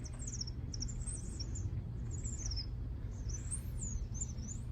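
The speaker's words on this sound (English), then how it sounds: "Oh, the birds." Small birds chirp and twitter outdoors in a few short, high bursts, faint over a steady low background rumble near a car where an alternator is being changed.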